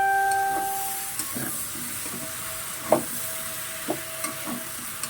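Vegetables sizzle softly in a pan while a utensil stirs and scrapes at scattered moments, with a few sharper knocks against the pan over a steady hiss.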